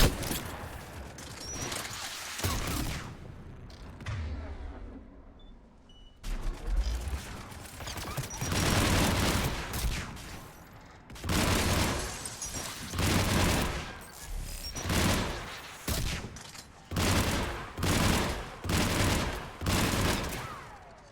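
Rifle fire in Mass Effect Legendary Edition, repeated loud bursts of gunshots in uneven volleys with short gaps, plus game mechanism noises and a bit of voice in the background.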